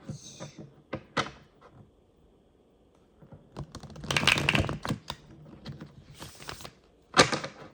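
A tarot card deck is shuffled in riffling, rustling bursts, broken by sharp taps and clicks of the cards, close up with quiet gaps between.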